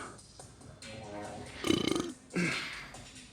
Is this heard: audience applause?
no